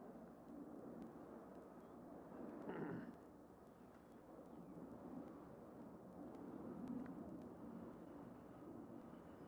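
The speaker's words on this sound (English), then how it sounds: "Maybe I should wait for the plane" An airplane passes overhead as a faint, distant broadband roar that swells and fades gently across the whole stretch, with no voices.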